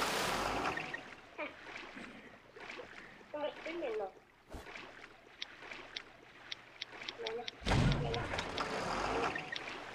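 Boat moving on water in the survival game Rust, a steady low rumble and water wash running throughout, with people talking over it and sharp game clicks toward the end.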